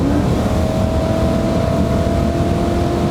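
A supercharged Chevrolet Corvette C5 V8 pulls hard under acceleration, a loud, steady engine roar with a rising supercharger whine layered over the deep exhaust rumble.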